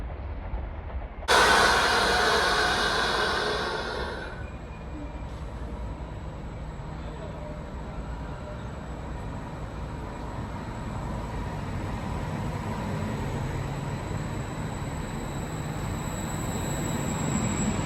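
A Trenitalia high-speed train at Venezia Mestre station gives a sudden loud hissing rush lasting a few seconds, then settles into a steady low rumble that builds slightly, under a station announcement.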